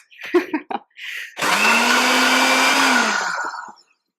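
A blender whirs loudly for about two and a half seconds, blending cacao and water in a kitchen, after a few brief clunks and knocks as it is set up.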